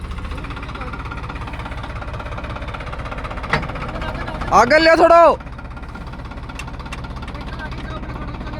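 A John Deere tractor stuck on a farm field, hitched to a trolley of soil, idles with a steady low rumble throughout, while a man calls out briefly over it midway.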